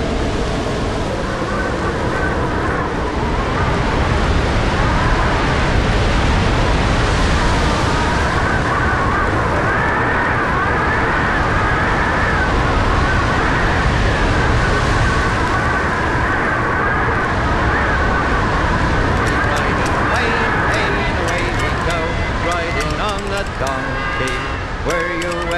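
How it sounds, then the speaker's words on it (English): Stormy sea waves off Cape Horn make a loud, continuous roar and crash throughout, while someone talks over the churning water. "we're heading straight into some real Cape Horn fury. Waves here can be up to 25 feet high"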